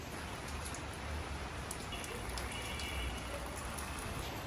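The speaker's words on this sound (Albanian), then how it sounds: "Pilloj shiu edhe këti." Steady rain falls as a soft, even hiss of drops that holds at a low level for the whole stretch, with no voices.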